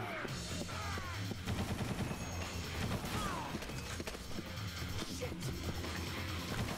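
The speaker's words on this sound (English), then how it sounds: "this should be the gunshot right here" Gunfire in the video game Dead Rising, with sharp, loud shots and impacts scattered over busy game noise, including a shotgun-wielding enemy, and no talk.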